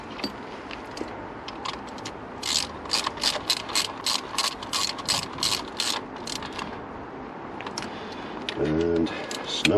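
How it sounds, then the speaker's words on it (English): A hand ratchet tightens the alternator bolts on a Mini One or Cooper R50/R52, producing a fast run of crisp metallic clicks at close range. Someone speaks before and after the ratcheting. "Get those bolts in, the 213 millers."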